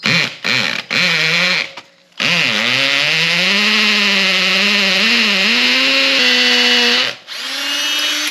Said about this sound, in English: let's drill the hole